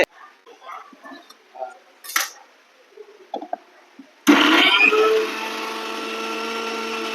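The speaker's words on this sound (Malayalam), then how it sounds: "ഒന്ന് മിക്സിയിൽ വെള്ളമൊന്നും ഒഴിക്കണ്ട അല്ലാതെ അടിച്ചാൽ മതി" A kitchen mixer grinder whirring loudly as it grinds potato in its jar without water, starting abruptly after a spell of talk and quieter handling sounds, then settling into a steady high motor drone.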